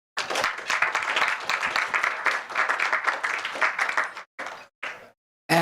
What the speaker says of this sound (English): So may I have applause for our generous sponsor for tonight.